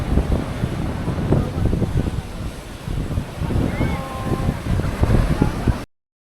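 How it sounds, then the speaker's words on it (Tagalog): Ocean waves and wind roar steadily at Boca Beach, Boracay, with surging surf and gusty microphone buffeting close by until the sound cuts off abruptly. "Ganda ng alon, no?"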